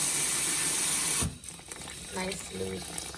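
Water from a sink tap gushes loudly and steadily, then cuts off abruptly, followed by softer trickling and sloshing as rice is rinsed and drained, with a voice speaking over it.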